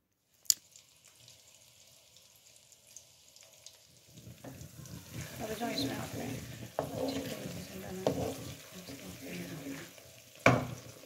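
Onions fry toward brown in mustard oil for a homemade hair oil; near silence with a couple of sharp clicks gives way to a moderate, rising sizzle with stirring and a loud clack near the end.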